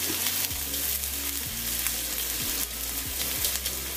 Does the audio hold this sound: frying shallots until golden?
yes